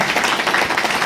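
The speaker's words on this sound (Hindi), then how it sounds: "एक बार हम जोरदार तालियों के साथ" An audience at a Hindi book launch event bursts into a brief patch of dense clapping, heard alone without speech.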